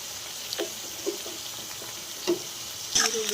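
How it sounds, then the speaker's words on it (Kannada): Chopped onions fry in a hot pan with a steady low sizzle, broken by a few sharp scrapes and clinks of stirring near the end, all fairly quiet and without talk. "ಈರುಳ್ಳಿಗೆ ಇವಾಗ ಹಾಕ್ಬಿಟ್ಟು ಬೇಗ ಫ್ರೈ ಆಗುತ್ತೆ"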